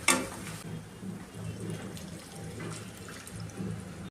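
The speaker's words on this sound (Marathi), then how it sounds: "अर्धा ग्लास पाणी ॲड करून घेते" Half a glass of water is poured into a simmering eggplant (baingan) curry masala in a home kitchen, giving a faint splash and sizzle at the start, then a soft, steady bubbling and hiss.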